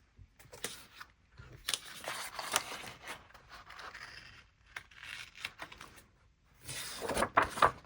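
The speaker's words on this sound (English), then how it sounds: "let's go ahead and cut the pages apart" Scissors cutting apart paper planner pages for a Happy Planner vertical layout, a run of soft, close snipping and crisp paper scraping in uneven bursts with short pauses.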